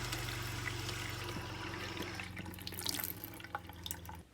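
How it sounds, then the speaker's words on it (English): RV water pump humming steadily while shower water flows, a low continuous drone under running water that fades and stops near the end, close and without talk. "You can hear that pump run."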